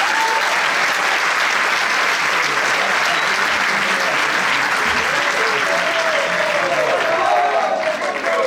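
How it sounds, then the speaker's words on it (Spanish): Loud, sustained applause from a crowd at a high school graduation gala, dense clapping filling the room throughout, with voices faintly audible beneath it. "Un fuerte aplauso."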